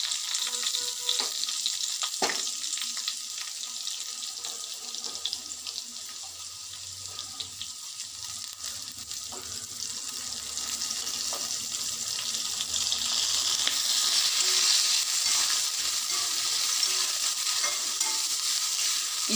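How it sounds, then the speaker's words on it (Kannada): Two green chillies and bitter gourd seeds dry-roast in a pan, a soft steady sizzle with occasional stirring scrapes and a sharp clink near the start, fairly quiet and continuous with no talk. "ಈಗ 2 ಹಸಿಮೆಣಸಿನ್ಕಾಯಿ ಹಾಕ್ತಾ ಇದ್ದೀನಿ. ಆಮೇಲೆ ಇಷ್ಟು ಚಿಕ್ಕದು 3 ಹಾಗಲಕಾಯಿ ಬೀಜನ ಈಗ ಹುರ್ಕೋತೀನಿ."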